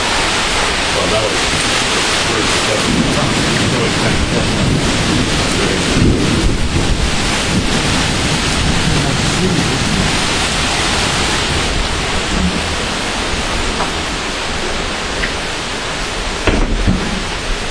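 Heavy thunderstorm rain pouring down beside a lake in the Adirondacks, a dense, steady roar that barely changes for the whole stretch, with wind buffeting the microphone and a slight swell near the end.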